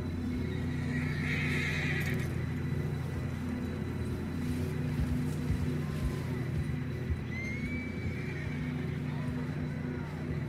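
Horses whinny and hooves clop in Red Dead Redemption II, set against a steady low rumble, with a short high neigh early and a faint call later, while speech runs through the scene.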